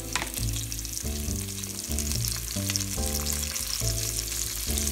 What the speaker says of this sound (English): Now I'm going to add that asparagus first. Here's the asparagus going in.